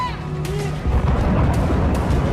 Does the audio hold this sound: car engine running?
no